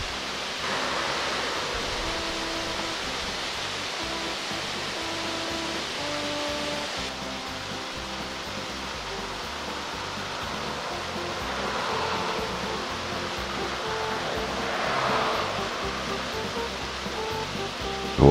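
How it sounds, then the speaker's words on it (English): A partly iced-over winter waterfall in Harz National Park, Germany, rushes in a constant broad hiss heard from nearby, steady and unbroken with faint tones in the background. "The water from this waterfall flows under the street"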